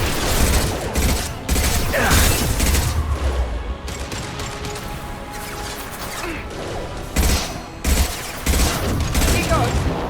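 Gunfire and mechanical weapon sounds from an impact shot in the sci-fi shooter Mass Effect 2, dense and loud with repeated bursts and booms, mixed with voices talking throughout.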